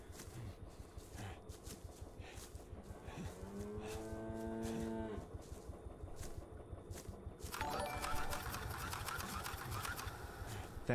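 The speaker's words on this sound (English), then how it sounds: "Hello, more cows." Cows mooing in the video game Greyhill Incident, two drawn-out moos over a steady mechanical hum, moderately close and alone without talk.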